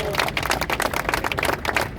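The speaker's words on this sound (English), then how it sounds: "Let's clap it up for Chancellor Banks." Crowd applauding for Chancellor David Banks at an outdoor Father's Day walk event with New York City's mayor, a dense, steady wash of many hands clapping close by, with some voices mixed in.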